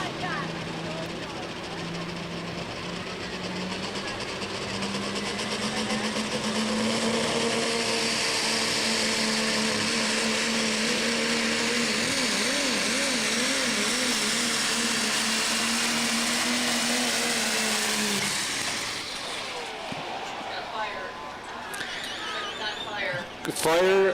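A diesel Chevrolet pulling truck from the Rock Diesel sponsored High Country Chevrolet team roars loud and sustained down the track at a Sauk County Fair truck and tractor pull, its pitch climbing and wavering before cutting off abruptly near the end, with an announcer talking over it.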